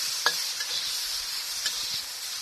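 Okra stir-fried with tamarind in a pan gives a soft, close sizzle with a few light scrapes and taps of a spatula over a short, steady frying hiss.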